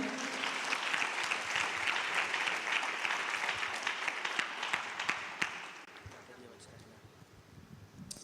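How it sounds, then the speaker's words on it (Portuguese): A church congregation breaks into dense, sustained applause and clapping with scattered voices, then the clapping thins and fades toward the end. "Se você crê, dê um aplauso a Jesus"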